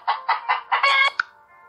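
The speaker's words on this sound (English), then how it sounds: "H is for hen." A hen clucks in a quick series of four or five short, close, clear calls, ending with one higher note and a faint fading tail.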